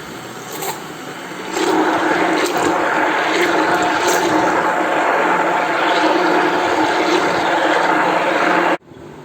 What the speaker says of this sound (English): I whipped the cream